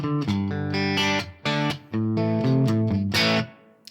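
PRS CE24 electric guitar in split-coil mode through a Fractal ODS 100 Clean amp model with slight grit, cab IR and gold plate reverb, playing a loud, close melodic phrase of sustained notes and chords with brief pauses.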